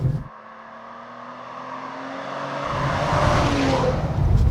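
A 2018 Maserati Ghibli S Q4 engine building from a low hum into a rising, louder roar as it accelerates, with road and wind noise growing.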